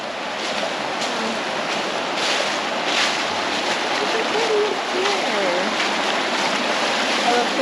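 Water rushes steadily under a small bridge at a South Carolina trout hatchery, a constant broad wash with some wind, and voices are faintly heard over it.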